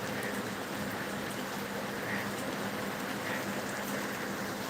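Steady rain falls in a dense, even hiss with no breaks, moderately loud and close, with no voices over it.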